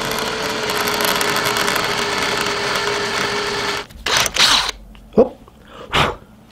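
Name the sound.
drilling into a soft brass carburetor plug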